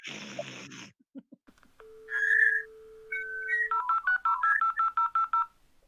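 A brief burst of static and clicks, then dialing tones, a steady tone and rapid pulsing electronic beeps as a dial-up modem begins connecting.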